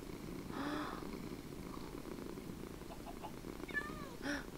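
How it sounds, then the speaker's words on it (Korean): Cat purring in the video game Minecraft, a soft continuous rumbling purr at low volume with a few faint chirps and game tones over it. "고롱고롱 하는 것 같아, 진짜."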